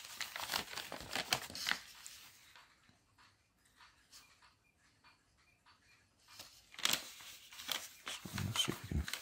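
Paper from a Beano paper plane kit crinkling and rustling as it is folded, with close busy bursts at the start and end and quieter handling in between.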